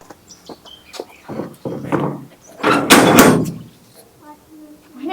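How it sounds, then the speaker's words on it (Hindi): A gate is opened with a short scraping, rattling burst that swells and fades, preceded by softer knocks, with faint voices and birdsong around it. "जा रही हूँ गेट खोलने।"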